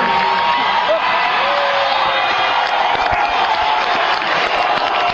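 A large crowd roars and cheers continuously, a dense sustained wall of voices with whoops and scattered applause that stays loud and steady throughout, with no single voice standing out.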